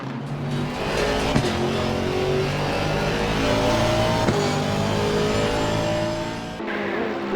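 A Bentley M-Sport 107 race car in a sim racing game drones loudly and continuously while approaching Bruxelles during a night endurance race, its engine pitch rising and falling through gear changes, with no voices over it.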